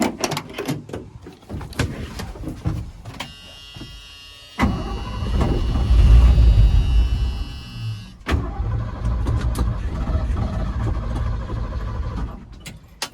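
A Ford F-100 truck that sat for over 20 years cranks over, catches and runs roughly for a few seconds, then cuts out and cranks again, loud and close, with no talking.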